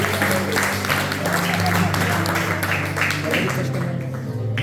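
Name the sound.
church congregation applauding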